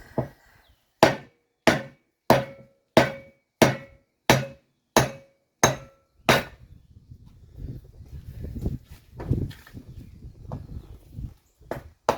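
Hammering during work on a welding truck: about nine loud, evenly spaced metallic blows land in a steady rhythm up close. Then come quieter scraping and clunking handling noises with a couple of sharper knocks.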